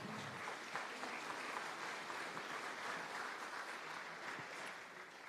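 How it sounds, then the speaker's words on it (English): An audience claps at a tenth-anniversary event, a steady and fairly faint wash of applause that holds for about five seconds and then eases slightly, with no speech over it. "Round of applause, ladies and gentlemen."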